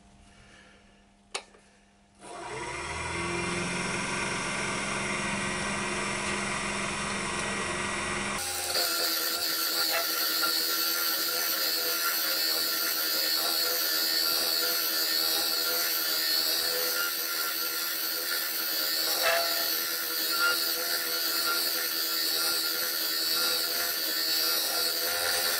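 A wood lathe turns a scorched ash bowl while its bottom corner is rounded off: a steady, loud whirring drone with a continuous cutting hiss that starts abruptly after a few quiet seconds, with no talking.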